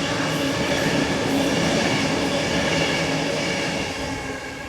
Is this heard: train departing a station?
yes